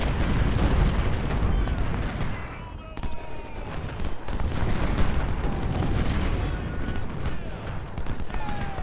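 Cannon fire from artillery batteries in a Civil War battle at Cedar Mountain in Ultimate General: Civil War keeps up a dense, continuous rumble of booms and blasts, with the battle din never letting up.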